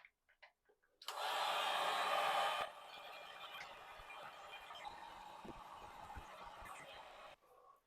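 A heat gun blows hot air onto old caulk with a steady, rushing whoosh, loud at first and then settling to a lower, even hum before it cuts off.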